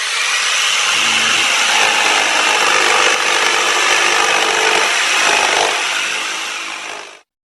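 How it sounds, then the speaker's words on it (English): Circular saw blade biting steadily through wood, a loud continuous broadband whine and rasp lasting about seven seconds before cutting off abruptly. "You have a band saw, you have a circular saw, and this one makes this sound"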